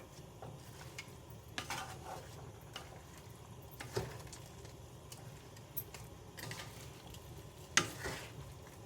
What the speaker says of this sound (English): I'm just going to mix and going to cover.